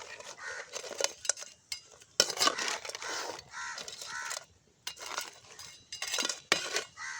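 A spoon scrapes and clinks against a cooking pan as crab fry is stirred, in irregular clattering bursts with short pauses, close and distinct.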